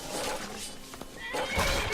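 A horse in Skyrim Special Edition whinnies loudly and close, with clip-clopping hooves and a faint background hum, lasting about two seconds.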